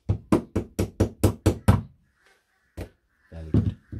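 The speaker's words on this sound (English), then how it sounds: "Just going to nail these now, and it's a little tap, not a knock, and you need a solid surface." A hammer taps nails into very soft pine wood on a solid surface, giving about eight quick, evenly spaced, close knocks, then a single tap after a pause, with a faint tone and brief voices near the end.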